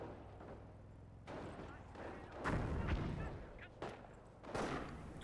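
Mortar, machine gun and rifle fire in a video game battle, heard as faint, distant booms and crackling bursts spaced across the scene, with a voice narrating over them.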